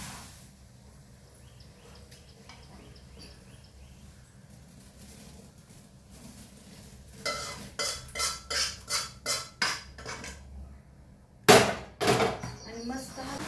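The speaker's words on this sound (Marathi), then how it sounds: "आणि मस्त हा मिक्स करून घ्यायचा सगळा चिवडा" A dry chivda snack mix is tossed with poured-in masala in a pan, giving a run of rhythmic scraping clatters after a quiet stretch, then a couple of louder sharp clanks near the end.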